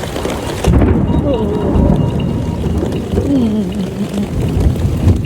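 Heavy rain pours steadily with low rumbling thunder rolling underneath, loud and close, with a brief voice in the background, during a thunderstorm with lightning.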